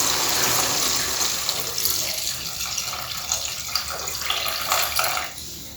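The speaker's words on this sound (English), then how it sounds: "Now we'll add a thin coconut milk." Thin coconut milk poured into a pan of Goan dry and fresh prawn curry, a steady close splashing, gurgling rush for several seconds that thins out toward the end, with no talking.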